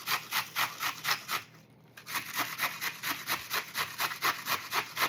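Cabbage rubbed against a grater makes a fast, even run of rasping strokes at close range, with a brief pause partway through before the rhythmic shredding picks up again, no talking.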